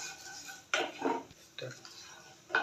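A metal utensil stirring cashews, bay leaf and cardamom in a pan for carrot payesh, giving a few separate scraping clinks spaced apart, close and fairly quiet, no talking.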